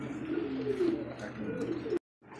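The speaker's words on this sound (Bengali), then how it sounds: "এখানে আরো একজন রেসার কবুতর" Racing pigeons cooing close by, a low continuous throaty coo that rolls on for about two seconds before breaking off abruptly and resuming faintly.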